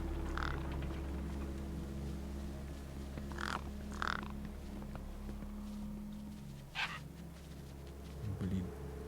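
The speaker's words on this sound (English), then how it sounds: "Damn birds!" Crows cawing in Beyond a Steel Sky, several harsh caws at intervals over a steady low hum, with soft movement noises between them.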